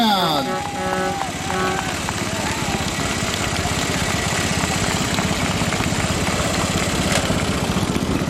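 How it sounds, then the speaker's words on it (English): A 1959 John Deere 730 tractor engine runs steadily and loudly through a parade, its low chugging rumble continuous and close. A voice speaks over it briefly at the start. "Coming up on a tractor, Paul Hunt, a 1959 730 John Deere."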